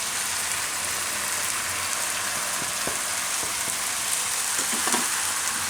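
Poha, flattened rice, fries in a pan with a steady loud sizzle and a few soft stirring scrapes and clinks, no voices.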